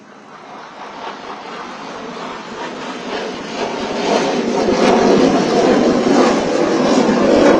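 A military jet roars overhead at an air show in South Africa, a broad rushing rumble that swells steadily louder as it nears, with no talking.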